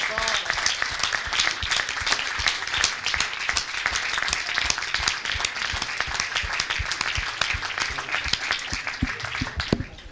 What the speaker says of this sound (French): je vous demande de vous lever tous et de l'applaudir